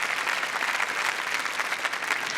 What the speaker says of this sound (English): I think I can hear a bit of that pre-recorded applause.